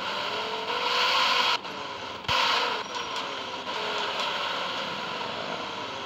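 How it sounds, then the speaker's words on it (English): A Land Rover Defender's engine in the mobile driving game Driving School Sim drones with a thin, synthetic, wavering tone that rises and falls in pitch, with a couple of abrupt cuts and clicks. "Engine sound is so trashy"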